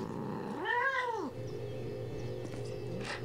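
A cat in the video game Postal 2 lets out one clear, drawn-out meow of middling loudness over a low game background, followed by faint scattered noises.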